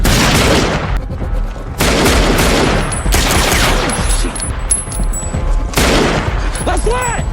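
A gang shootout in an action film: loud, dense bursts of gunfire and booming shots crash repeatedly over several seconds, separated by brief lulls, with shouted voices mixed in.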